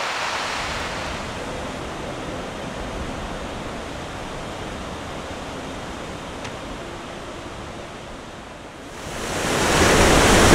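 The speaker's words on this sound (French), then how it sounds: "je vois vraiment l'océan déchaîné comme ça avec des grosses vagues qui arrivent" Rough, stormy ocean off an island sends big waves crashing, a loud continuous roaring wash close by that swells into a fresh surge near the end, with no talking.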